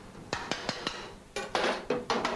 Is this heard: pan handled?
yes